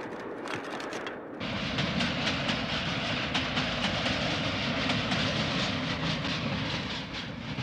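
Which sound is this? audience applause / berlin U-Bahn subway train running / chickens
berlin U-Bahn subway train running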